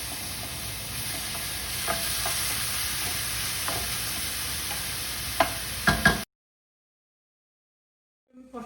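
Onion and garlic sautéing in a pan for a tomato sauce make a steady, close hiss of frying, broken by occasional utensil scrapes and a few louder clatters before the sound cuts to silence.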